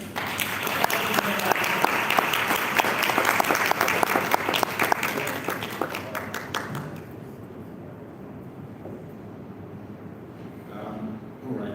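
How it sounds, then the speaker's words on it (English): Applause at a literary festival: loud, dense clapping from a large audience that fades out after about seven seconds, leaving quiet room tone with faint murmurs. "Please give a rousing applause."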